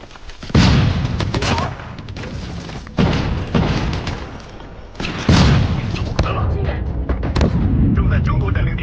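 Heavy gunfire and several booming grenade blasts fill a Call of Duty Mobile esports match. The loud, punchy bursts recur every few seconds over continuous battle noise, with some in-game voice in the background.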